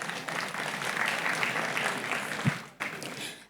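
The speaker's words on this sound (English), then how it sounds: "Please give her a round of applause." A room full of people claps for a speaker at a leadership dialogue event in Abuja, with continuous, fairly loud applause that briefly drops off near the end before swelling again and fading out.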